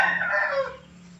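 A single crowing call from a chicken, loud and close at the start, trailing off into quieter background after about a second.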